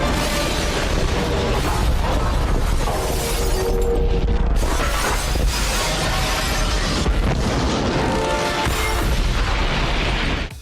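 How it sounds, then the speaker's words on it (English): Helicopter crash scene from The Matrix: a continuous, loud barrage of shattering glass, booming explosions and crashing debris, with several sharp bursts across the stretch. "The Matrix special effects team studied everything from the physics of fluid dynamics to the exploding patterns of different types of glass in order to create this awe-inspiring helicopter crash"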